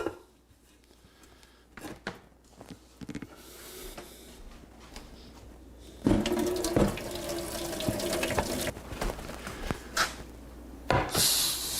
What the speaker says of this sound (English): go over to the sink and drain the water off